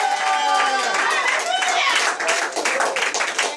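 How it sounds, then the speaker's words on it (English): Lively clapping and cheering from a church congregation during a morning service, loud and continuous, with voices shouting over the hands. "give him a round of applause and a shout of praise"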